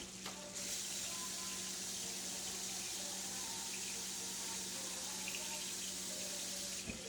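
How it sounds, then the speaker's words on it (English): Tap water runs steadily into a cup for several seconds, a constant hissing rush, close and even in level. "let me grab a cup of water, because I will need some water"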